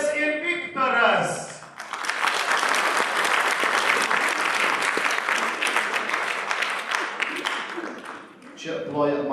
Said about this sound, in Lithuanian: Čia ploja man, Viktorai